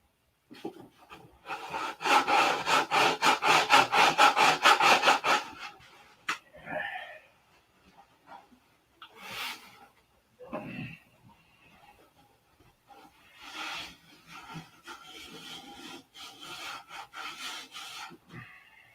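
A fast, steady rasping of sanding on a wooden P-47 model runs for several seconds, followed by quieter scattered scrapes and a few more short sanding bursts.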